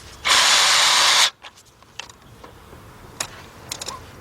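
A power tool whirs in one loud burst of about a second while tightening spark plugs in the 4.0 engine of a 2005 Nissan Pathfinder, followed by faint metallic clicks and clinks from the tools.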